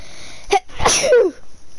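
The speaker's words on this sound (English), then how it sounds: "I need to sneeze." A single close, loud sneeze: a quick sharp intake followed by a forceful burst that trails off.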